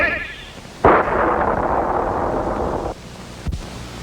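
A cartoon rocket launch blast from a space adventure: a sudden loud burst erupts, then a sustained roaring rush holds for about two seconds before cutting off, followed by a brief sharp pop.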